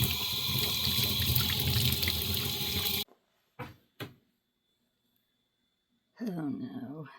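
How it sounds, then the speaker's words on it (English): Water running in a steady, loud rush over a trinket shelf being rinsed, cutting off abruptly, followed by a couple of brief knocks, a long quiet gap and then a voice speaking. "Now I've just got to give everything a rinse and let it dry."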